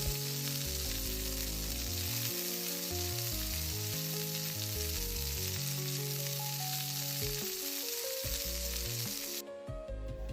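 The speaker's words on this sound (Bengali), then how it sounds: "পেঁয়াজটাকে গোল্ডেন ব্রাউন করে ভেজে নিয়েছি।" Chopped onions fry in a little oil in a pan, a steady loud sizzle running continuously for about ten seconds with no talk, ending abruptly.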